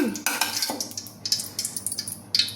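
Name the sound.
coconut pieces added to ghee in a pan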